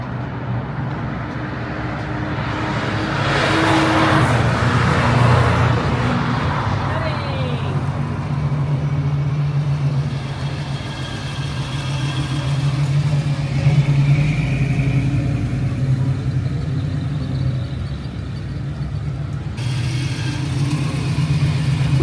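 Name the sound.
1980s cars driving in a filmed chase scene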